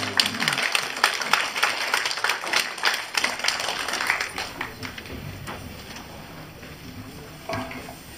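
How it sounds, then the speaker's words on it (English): An audience applauds after a performance of Taiwanese Atayal indigenous music and dance at a library in Ottawa; dense clapping fills the first five seconds, then thins to scattered claps with a brief final burst. "once again, round of applause to Angela."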